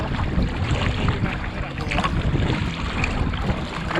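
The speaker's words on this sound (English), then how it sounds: "Now we're back into the wind again." Wind gusting steadily across a lake while kayaking, a broad continuous rush with low buffeting against the microphone that holds at an even, fairly loud level throughout.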